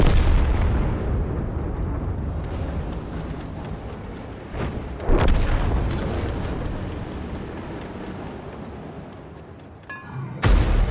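T92 HMC self-propelled artillery in World of Tanks firing and its shell exploding: heavy booming blasts with rumbling tails, one sharp crack around the middle and another burst at the end.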